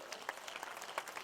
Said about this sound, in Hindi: खड़े होकर ताली बजाओ इस बात में, तो खड़े हो जाओ।